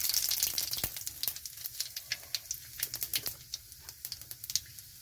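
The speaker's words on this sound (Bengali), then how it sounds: "কড়াইতে সর্ষের তেল দিয়েছি, তো তেলটা গরম হয়ে গেছে। এখানে দিয়ে দিচ্ছি পাঁচফোড়ন।" Panch phoron seeds crackling and popping in hot mustard oil in a kadai, a dense run of sharp, uneven spits and snaps over a soft steady sizzle, fairly quiet and close, no voices.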